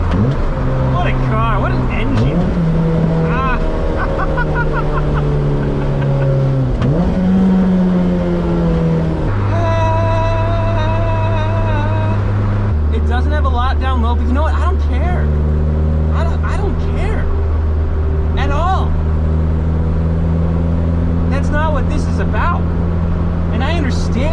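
A Honda Civic Type R engine hums low and rises in pitch through a few revs, with a strong steady drone throughout and a voice talking over it.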